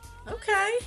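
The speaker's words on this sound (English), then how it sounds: "That's my cat in the background making noises." A cat gives a drawn-out, rising-and-falling meow right after a person speaks a brief word, with the voice returning faintly at the end.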